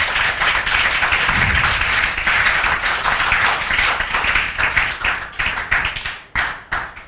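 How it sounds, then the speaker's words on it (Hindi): A classroom claps and applauds for a student, with dense, sustained clapping from many hands that continues throughout and grows more sporadic toward the end. "दिव्यांशी दीदी के लिए जोरदार तालियां"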